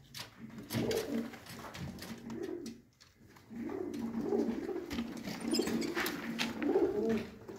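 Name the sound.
pigeons cooing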